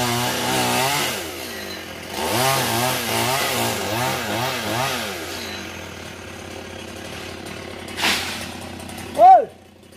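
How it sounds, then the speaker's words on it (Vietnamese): A chainsaw engine revs and bogs in repeated surges, cutting tree branches close by beside a road, with people talking over it and a brief sharp squeal near the end. "nãy chú Dân đi ngang qua là chú Dân thấy nhánh nào cưa ngay nhánh đó luôn à"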